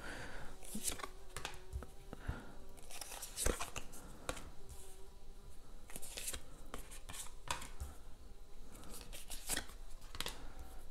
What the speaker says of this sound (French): nous avons une amie mouche qui est en train de se promener par là. J'espère que vous l'entendez pas trop